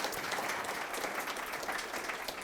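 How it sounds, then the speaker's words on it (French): Audience applause for panel speakers at the close of a round-table talk on how digital technology is transforming cities, buildings and trades; steady, dense clapping from a crowd, fairly distant, alone with no talking over it. "On peut les applaudir"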